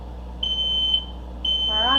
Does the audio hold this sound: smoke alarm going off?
yes